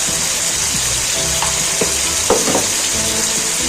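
Egg and tomato masala sizzles steadily in a pan as salt, turmeric and black pepper are stirred in, with a few soft scraping strokes of the spoon over the constant frying hiss.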